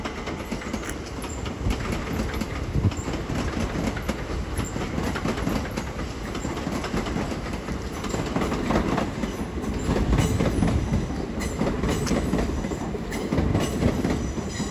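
A Southeastern Class 375 electric train runs through Ashford International station, a steady rumble of wheels and rail clatter with faint squeal, passing close and holding a constant level.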